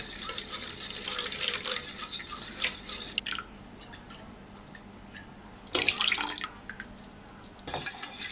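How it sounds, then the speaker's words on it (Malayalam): Milk poured into beaten eggs for a stovetop caramel pudding: a steady trickling, splashing stream that pauses briefly, then resumes in short bursts. "പാല് മുഴുവനും ഇതിലേക്ക് ഒഴിച്ചിട്ടുണ്ട്."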